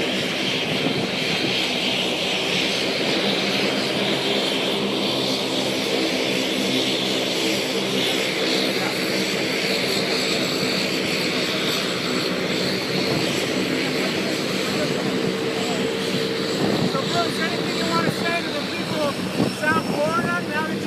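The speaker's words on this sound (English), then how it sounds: "Look at that thing. Yeah, I think this might be Britney Spears' airplane." Propeller airplane droning overhead near Fort Lauderdale, a loud, steady engine roar with a rising and falling hum throughout, with voices talking underneath.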